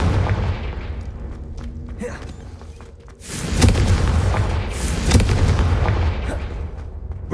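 Confringo spell blasts in Hogwarts Legacy: loud booming explosions over rumbling game noise, with a big burst in the middle and a second one soon after, near and heavy.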